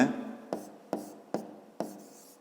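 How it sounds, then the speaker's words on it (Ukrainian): Someone writes on a board during a fifth-grade maths lesson: five short, crisp strokes, each snapping on sharply and fading quickly, spaced about half a second apart, quiet and with no talking. "Далі пишемо АД"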